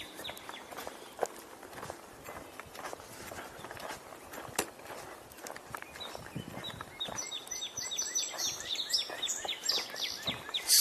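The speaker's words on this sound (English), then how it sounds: "Song sparrow" A song sparrow sings bright, bursting trills in the last few seconds, close and fairly clear, above the crunch of footsteps on an outdoor walk.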